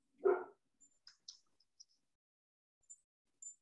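A dog gives one short bark at a distance, followed by a few faint scattered clicks and ticks in otherwise near silence during a committee meeting.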